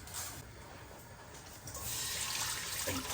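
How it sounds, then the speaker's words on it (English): Water rushes steadily into a cooking pot being filled for boiling lentils for haleem, a continuous close splashing flow that grows louder partway through. "I got my pot on now, so I'm gonna get some water into this."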